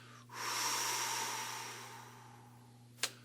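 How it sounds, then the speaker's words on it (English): A long, breathy exhalation during a guided breathing exercise, swelling quickly then slowly trailing off over about two seconds, followed by a short sharp sniff or puff near the end, with a low steady hum underneath. "Exhale and hold your breath."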